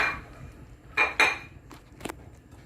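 Spoon knocking and scraping against a pot while Parmesan, white cheddar, Monterey Jack and yellow cheddar are stirred into mac and cheese, a few distinct close metallic clinks spread over a quiet background.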